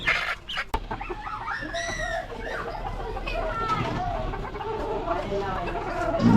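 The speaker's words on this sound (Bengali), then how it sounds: "এদিক দিয়ে হচ্ছে যে মুরগিগুলো পালতেছে দেখুন" Chickens on a small poultry farm cluck and squawk intermittently at a moderate distance, mixed with background voices and general yard noise.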